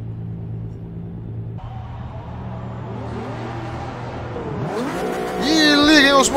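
Race car engines in Forza Motorsport 6: Apex idle in a low steady drone, then build and rev harder toward the race start, rising loud near the end.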